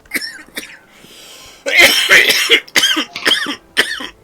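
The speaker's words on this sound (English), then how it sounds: "Sorry, I was coughing." Several sharp, loud coughs in bursts, a couple of short ones first, then a harsh fit of repeated coughing, close to the listener.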